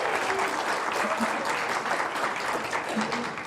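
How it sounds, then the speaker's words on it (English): An audience applauds steadily for the sound technician in the sound room at a Sunday spiritual-living gathering, with full, even clapping from many hands lasting the whole stretch, close and continuous with a faint crowd murmur. "How about a little applause for Dave up there in the sound room"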